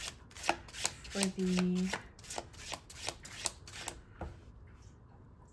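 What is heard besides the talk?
shuffling and drawing tarot cards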